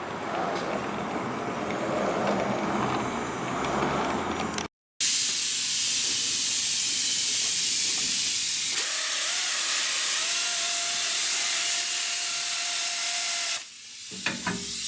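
A torch roars and hisses steadily, close up, while heating rotted valve cover bolts on a 1964 Renault Dauphine, with a brief cutoff and a change in tone partway through.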